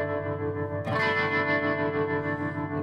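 An electric guitar played through a Boss Katana amp with the chorus effect turned all the way up rings out in a sustained, shimmering, wobbling chord, struck loudly under a second and ringing on.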